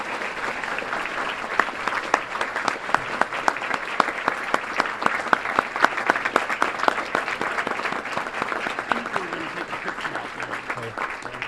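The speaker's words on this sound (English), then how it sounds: "Please give all of these recipients another round of applause." An audience at a school awards breakfast applauds scholarship recipients with sustained, evenly spread clapping whose sharp individual claps stand out, continuing steadily at moderate loudness with no one talking.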